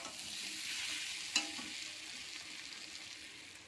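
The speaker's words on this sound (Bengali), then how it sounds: "এসব মশলা একসঙ্গে দিয়ে দিলাম, দিয়ে আমি কষবো।" Spiced potatoes are stirred while frying in a pan, giving a quiet, steady sizzle with one sharp scrape of the spoon partway through and no talking.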